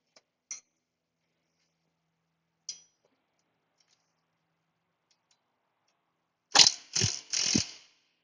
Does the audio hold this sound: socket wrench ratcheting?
yes